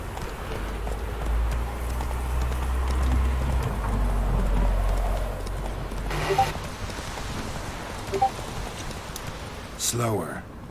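Roach, the horse in The Witcher 3 video game, gallops with rhythmic clip-clop hoofbeats, loud and close, under game music and scattered voices, ending in a few sharper thuds.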